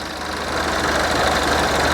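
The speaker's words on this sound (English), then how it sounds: "It was idling here and it just stalled dead." A 2012 Buick Verano engine idles with a steady, close mechanical hum and a faint knock, holding even throughout with no voices.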